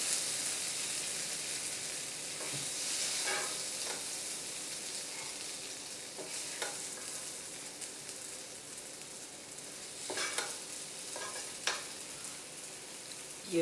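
Potatoes for curry potatoes sizzling in a hot pan, a dense continuous hiss close up with occasional scrapes and stirring clatters, no talk.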